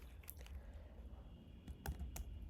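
Keys on a computer keyboard are struck while a prompt is typed, giving a few sharp clicks over a steady low hum, close by with no talk.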